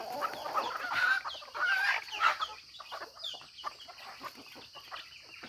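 Backyard chickens, mostly hens left in the flock, clucking in a busy jumble, with a louder burst in the first couple of seconds and softer calls continuing behind.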